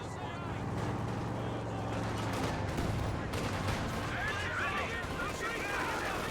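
Mortar blasts and machine-gun fire from Company of Heroes 2 rumble in a dense, continuous battle din beneath steady commentary, with explosions overlapping the rattle of MG fire throughout.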